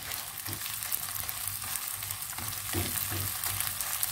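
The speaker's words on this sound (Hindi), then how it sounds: "इसको मैं थोड़ा सा भून के इसको मैं डिश आउट करती हूँ।" Semolina halwa roasting in a pan, sugar-free, giving a steady soft sizzle with faint scraping stirs at intervals, close and moderately quiet, no talk.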